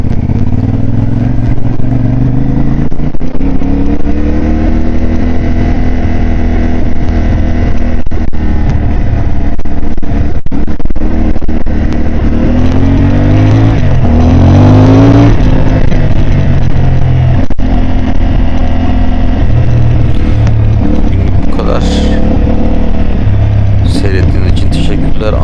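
A CF Moto 450 MT motorcycle rides off-road through a forest at night, its engine loud and close with rising and falling revs, accompanied by wind buffeting and occasional rattles, while a rider talks over it.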